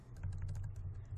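Quick, close clicks of typing on a computer keyboard sound over a low steady hum, a short burst of several rapid keystrokes.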